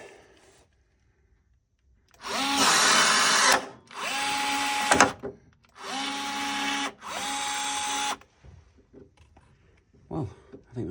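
A rivet tool setting a rivet into a Land Rover Defender suspension bracket, several loud whirring bursts of a few seconds each separated by pauses, with quieter clicks and clatter between.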